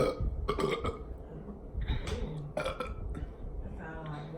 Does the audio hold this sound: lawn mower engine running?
no